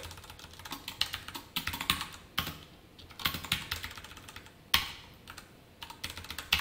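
Rapid, clicky keystrokes on a computer keyboard while code is entered, in uneven bursts with short pauses and a few sharper key hits, close and fairly quiet.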